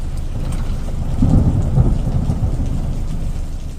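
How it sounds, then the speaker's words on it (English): Heavy rain pours down steadily while a deep roll of thunder swells and rumbles close by in the middle, fading back into the constant hiss of the downpour. "That was a bloody fair old downpour though, that."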